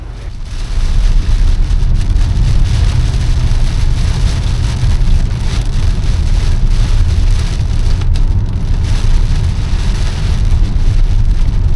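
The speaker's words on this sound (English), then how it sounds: "It wouldn't be a rewild trip without some rain." Rain falls steadily during a road trip from a creekside tent-camping outing, a loud, unbroken wash of drops over a deep low rumble, with no talking.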